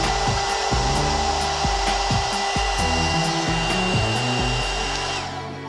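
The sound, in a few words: hot air brush hair straightener with blower running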